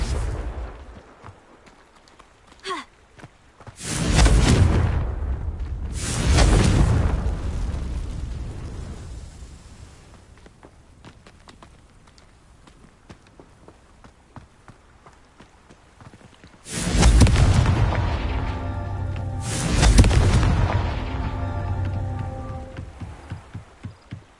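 Confringo fire spells detonate in Hogwarts Legacy, four loud booming explosions arriving in two pairs, each with a rumbling tail, separated by quieter game ambience and small clicks.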